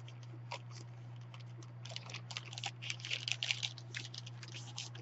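A paper bag being folded up by hand gives soft, quick crinkles and taps that come in irregular bursts and build toward the middle, faint and close over a steady low electrical hum.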